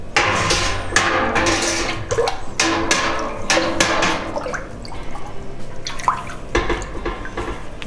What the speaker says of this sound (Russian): тщательно все это дело перемешиваем